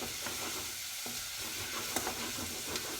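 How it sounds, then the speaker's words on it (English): Courgettes and peppers sizzle in a pan for soup, a steady soft frying hiss broken by a few light scrapes and clicks as they are stirred, with no talking. "Let's get this stirred up. Now you can smell the courgettes cooking."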